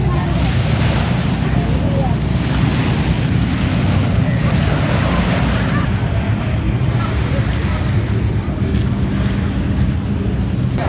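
Surf rolls steadily onto Siloso Beach in Singapore, a continuous loud wash of waves mixed with heavy wind buffeting the microphone, with faint voices underneath.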